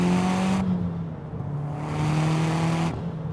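A 450HP second-generation Mazdaspeed 3 hatchback spins its wheels in second gear, its engine droning loud and close with a rising, wavering tone that briefly dips before surging again, with no talking.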